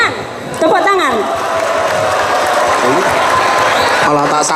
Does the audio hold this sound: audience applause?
yes